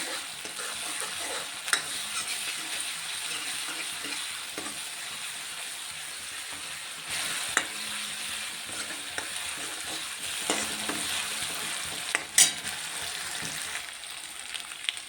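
Green chilies fry in hot oil for a spicy Maharashtrian gram-greens dish, giving a steady, moderately loud crackling sizzle with a few sharper pops and occasional stirring clinks, and no voices.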